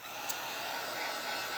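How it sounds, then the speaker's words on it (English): A hair dryer or heat tool blows in a steady, close, even whoosh over a craft project of Christmas ornaments, running alone with no talk. "I'm going to hit this up with the hairdryer"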